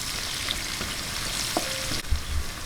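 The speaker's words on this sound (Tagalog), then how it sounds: "Ayan, lagay na po natin yung sibuyas. Konting gisa-gisa lang." Chopped onion sautéing with garlic in a hot pan, a loud, continuous close-up sizzle with a few light scraping stirs and a brief clatter toward the end.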